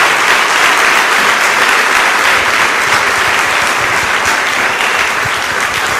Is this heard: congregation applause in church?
yes